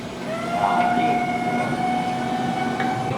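A moving rail track on a model exhibit at an aerospace museum hums and rattles steadily like a small train, with a continuous mechanical whine and a faint squeal over the whole stretch and no talk.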